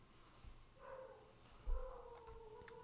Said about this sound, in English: Dog is freaking out.